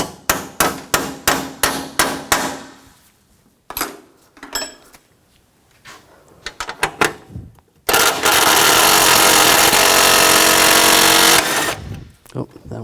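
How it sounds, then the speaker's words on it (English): A 12mm socket wrench works loose a bracket on a 2004-2009 Toyota Prius, giving a rapid series of sharp metallic ratchet clicks and taps, then a long, loud, steady whir before a few final knocks. "Using a 12mm socket, take this bracket off."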